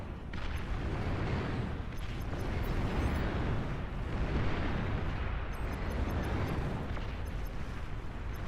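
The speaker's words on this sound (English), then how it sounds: "Enemy commander destroyed." Sustained rumbling explosion roar from an enemy commander unit being destroyed in the real-time strategy game Beyond All Reason, a dense, continuous low boom filling the whole stretch with no voices.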